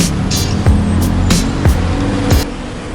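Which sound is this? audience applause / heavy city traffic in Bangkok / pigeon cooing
heavy city traffic in Bangkok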